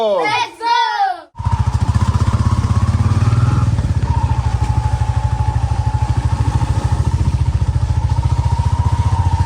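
A motorbike rides steadily along village roads toward a flooded pond, its engine putting out an even, close, continuous drone after a brief burst of talk at the start.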